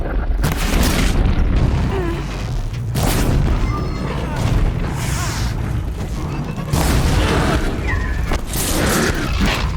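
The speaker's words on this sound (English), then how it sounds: "I love these sticky bombs, though." Sticky bomb explosions in the video game Horizon Zero Dawn, several loud booming blasts over constant battle noise and roaring, with a voice talking throughout.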